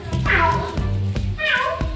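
A cat meows twice, close and clear, the two calls separated by a short pause.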